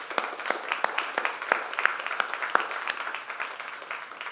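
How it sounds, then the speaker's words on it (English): A small lecture audience gives a round of applause: scattered, uneven claps that stay fairly light and keep going throughout. "I think we give them another round of applause"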